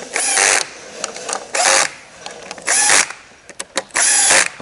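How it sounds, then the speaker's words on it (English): Power drill driving screws into a DynaCon conveyor during assembly, loud whirring bursts of about a second each separated by short pauses and a few quick trigger taps, close up. "Have your drill set moderate again."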